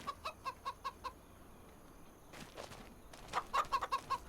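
Chickens cluck in the Farming Simulator 25 video game, a run of short, evenly spaced clucks, then a pause with a soft rustle, then another louder burst of clucking, close and without talk.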